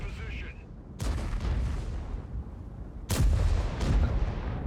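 Loud gunfire in a German-themed shooter video game, with a sharp burst near the one-second mark and a heavier pair of blasts after three seconds, heard under voice chat.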